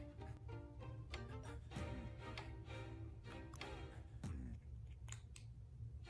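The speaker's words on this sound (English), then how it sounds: "We are going to cut the lipstick." Scissors snip through a lipstick in a few short, crisp cuts with faint clicks, close and fairly quiet, no talking.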